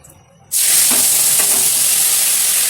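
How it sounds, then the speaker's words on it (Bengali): Dal being tempered with spices dropped into hot oil: after a brief quiet moment, a loud, sudden sizzle bursts out and continues as a steady, close frying hiss. "ডাল ফোড়ন দিচ্ছি বন্ধুরা এখন"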